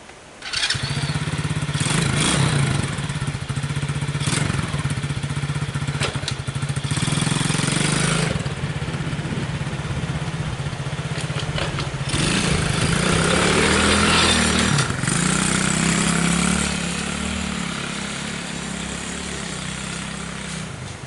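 A 125cc motorcycle in a backyard starts and warms up. Its engine idles with a rough, buzzing putter, and the throttle rises and falls now and then. The engine sounds loud and close and runs alone for about twenty seconds.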